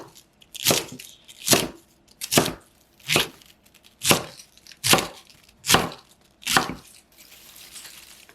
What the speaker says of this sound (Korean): 먹기 좋은 크기로 일정하게 썰어 주시고요.